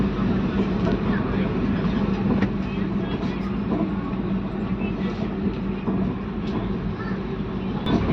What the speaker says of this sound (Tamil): திருப்பூர் ஜங்ஷனில் இருந்து மூவாக ஆரம்பிச்சிருச்சு